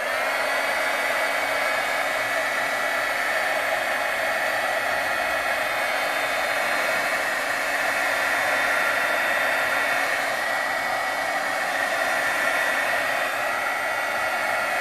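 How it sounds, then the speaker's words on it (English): Heat gun blowing hot air over poured acrylic paint, a steady, loud, unbroken whooshing fan roar lasting throughout with no talking. "I will be doing with my heat gun."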